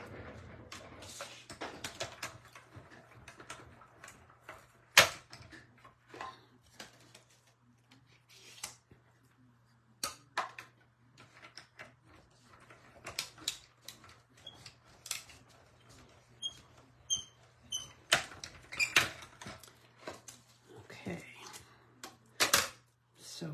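A mini die-cutting machine works through paper leaves for a card, giving sharp mechanical clicks and clacks in an irregular run over a steady low hum, with talk mixed in.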